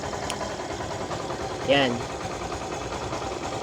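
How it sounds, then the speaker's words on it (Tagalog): A Yamaha YTX 125cc motorcycle engine idling, a steady low rumbling chug throughout, with someone speaking briefly over it and a short whine midway. "Nakabukas yung makina"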